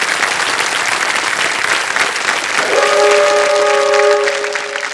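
The studio audience on the TV quiz show KBC breaks into loud, sustained applause; partway through, a sustained multi-note tone rings out over the clapping before fading.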